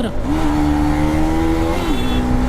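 A motorcycle, an NS200 bike, races at full power on a road trip, its loud engine holding a steady high drone with a brief shift in pitch near the end, close and continuous throughout.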